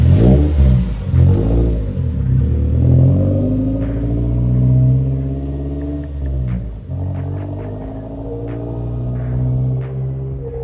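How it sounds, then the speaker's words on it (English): Car engine idling and revving steadily after a new water pump, thermostat and crank position sensor were fitted, with a loud, continuous rumble and shifting revs. "I'm just letting the car run so we can fill up with new coolant."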